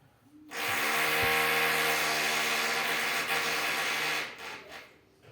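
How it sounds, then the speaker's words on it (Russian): A loud hammer drill grinds and hammers continuously into concrete for about four seconds, then cuts off, leaving quieter room noise. "они еще долго будут тут это вот сверло долбить"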